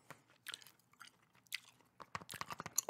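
GTA 5 map screen opening and closing: a quick series of soft clicks and whooshing interface blips, sparse at first and then denser near the end, alone with no talk.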